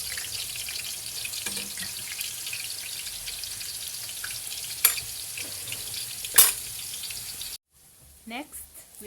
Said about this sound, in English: I've shallow fried it, but you can also deep fry it.